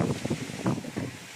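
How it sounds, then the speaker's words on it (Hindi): Strong wind gusting just after rain, a steady rushing roar with uneven swells and buffeting over a brief moment, close and moderately loud with no voices. "इससे पता चल रहा तेज हवा भी है।"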